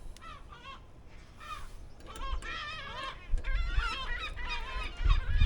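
Seagulls squawk and cry repeatedly near a street where a classic car is being worked on, the harsh calls overlapping and rising in loudness over a background of traffic rumble.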